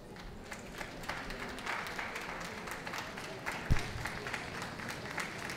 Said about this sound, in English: And please do applaud your favourites.